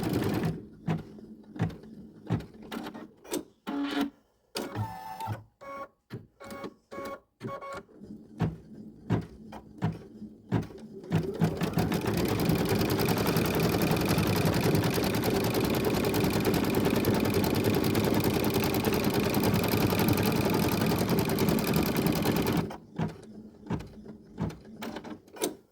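Embroidery machine stitching a card holder, first in short intermittent bursts with clicks and pauses, then a long loud continuous run of fast rhythmic stitching before stopping and returning to brief mechanical clicks.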